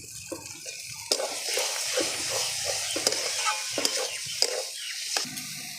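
Taro leaves are stirred in a pan for a Bengali kochu shak, with a spoon scraping and clattering in irregular strokes over a steady hiss of frying.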